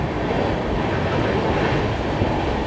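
CSMT Mumbai to Hingoli Deccan Janshatabdi Express passenger train running, heard from on board as a loud continuous rumble with rolling wheel clatter and no voices.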